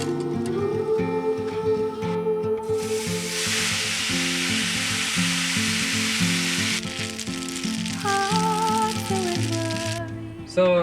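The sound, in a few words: garlic frying in brown butter for pasta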